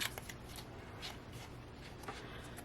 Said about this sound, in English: I will cut this off all together.